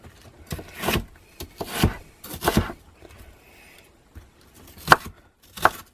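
A knife chopping vegetables for a large batch of kimchi, giving irregular knife strikes on a cutting board, with clusters of close, sharp thuds separated by short pauses.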